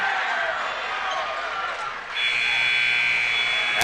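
Basketball halftime buzzer at a high school game, a loud sustained electric buzz cutting in partway through and holding to the end over crowd noise and arena din.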